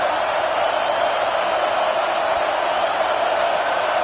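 A stadium crowd in the NCAA 26 college football game roars in one continuous, dense wash of noise, loud and unbroken for the whole stretch, with no distinct voices.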